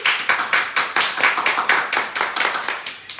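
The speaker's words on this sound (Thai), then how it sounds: "ขอแบบปรบมืออีกรอบนึง" A single person claps steadily, about a dozen crisp, evenly spaced claps close to the microphone, with no talking.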